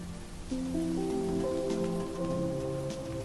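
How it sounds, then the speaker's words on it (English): Steady rain hiss in the video game Monster Harvest pours beneath a soft, tonal game melody, the patter constant and moderately quiet throughout. "Oh, it's raining today."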